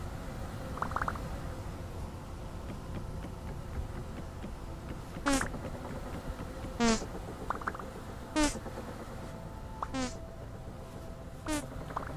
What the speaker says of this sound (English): I just love that noise. You show 'em, Bee.